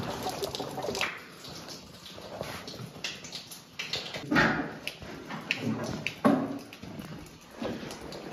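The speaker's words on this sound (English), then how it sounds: "water is coming out of there now" Water gurgles and splashes out of an off-grid water heater in intermittent bursts and drips, fairly close, with some clattering handling noises between the flows.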